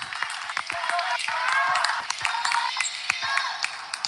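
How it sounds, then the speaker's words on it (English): A crowd in a gym at a high school girls' basketball game cheers and claps, a sustained roar with scattered sharp claps and squeaks, loud and continuous. "And the crowd below me really making a lot of noise."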